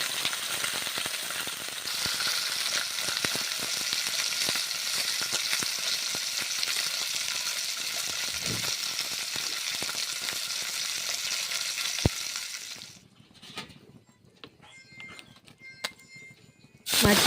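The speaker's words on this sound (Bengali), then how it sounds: "মাছগুলো ভেজে নিচ্ছি" Rui fish pieces rubbed with salt and turmeric fry in hot oil, a dense continuous sizzle and crackle close by for most of the stretch, then the frying drops away to quieter kitchen clatter and faint rattles near the end.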